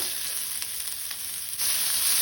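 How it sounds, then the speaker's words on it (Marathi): Finely chopped onion frying in hot oil over a medium flame for a Goan pearl spot fish curry, a steady soft sizzle that grows a little louder midway, with no talking. "तेल तापले तशें तातून हांव 1 कांदो घालता।"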